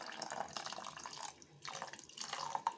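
Strained horse gram cooking water pours steadily into a vessel with a soft splashing trickle, pausing briefly twice before resuming, quiet and close.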